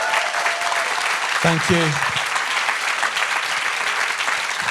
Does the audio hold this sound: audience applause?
yes